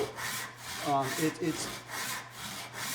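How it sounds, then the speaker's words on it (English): A hand saw cuts through wood in smooth, even back-and-forth strokes, steady and close, with a relaxed rhythm. "feedback from the saw before, and how just the sound of it right now"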